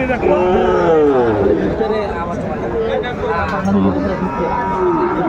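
A Sahiwal cow moos loudly nearby in drawn-out calls at a cattle market in Gazipur, Bangladesh, mixed with people chattering around it.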